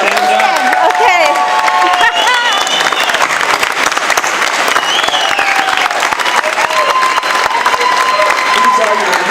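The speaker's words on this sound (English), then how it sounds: "please give them an amazing Carpinteria warm round of applause" Banquet audience at the Carpinteria Community Awards applauding loudly with cheers and whistles, dense steady clapping throughout with shouts rising over it.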